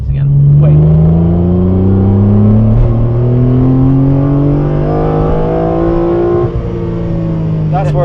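Shmee150's car engine revs hard and climbs through the range, a loud, close mechanical roar with rising pitch and a brief dip before building again.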